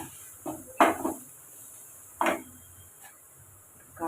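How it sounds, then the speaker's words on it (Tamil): A utensil scrapes and clinks against a pan a few times as masala is sautéed, separated by quiet gaps, with a faint sizzle underneath. "இதை நம்ம வதக்கி எடுத்துக்கோங்க"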